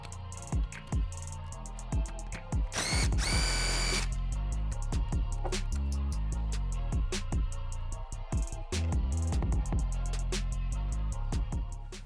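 A power tool spins off the nut on top of a 2015-2023 Mustang shock mount in short, sharp bursts, with one longer high-pitched whirring run in the middle, all recorded up close in a quiet garage.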